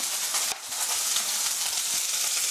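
Chopped onion, garlic and bell pepper fry in a hot pan, a dense steady sizzle with small crackles throughout, close and fairly loud, with no voices.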